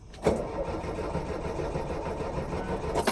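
A 1977 VW bus engine cranks over with a steady, rapid rhythmic churning from the starter, close and loud, running continuously without catching.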